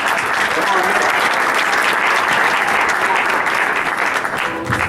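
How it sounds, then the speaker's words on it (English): Community gathering in Flint, Michigan breaks into loud, steady audience applause, close and continuous for the full stretch, with some voices blending into the clapping. "Give a round of applause for Nick."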